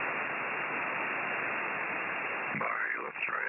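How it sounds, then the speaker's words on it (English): Aurora-distorted 2-metre amateur radio signal: a steady, dense hiss of raspy static fills the receiver, and a voice briefly breaks through near the end. "what you're hearing is his signal is in Aurora here"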